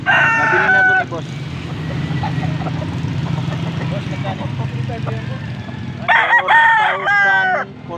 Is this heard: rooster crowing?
yes